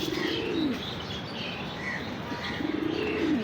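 Female pigeons give two soft, low coos about two seconds apart, faint against a steady background hiss with scattered chirps.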